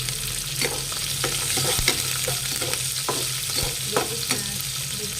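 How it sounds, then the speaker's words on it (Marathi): Hot green chillies (lavangi) frying in oil with garlic in a pan for dry methi bhaji, a constant close sizzle broken by regular scraping stirs of a spatula, no voices. "छान मिरची तळू द्यायची."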